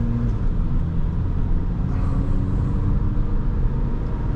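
Steady low interior rumble of a 2009 Honda Accord LX accelerating smoothly, heard from inside the cabin, a continuous even drone with no talk.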